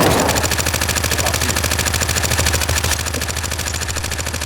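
A sustained, evenly paced stream of automatic gunfire in the survival game TheFront, loud and steady throughout with a faint engine-like hum beneath.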